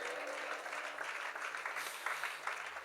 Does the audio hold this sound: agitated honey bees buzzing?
no